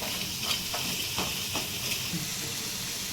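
Ingredients fry in oil in a kadai for a Telangana-style fish curry, giving a steady, close hiss and sizzle with a few soft scraping stirs.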